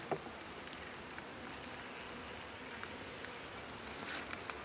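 Honeybees buzz around an open beehive at the end of the season, a faint, dense, continuous hum with no talking.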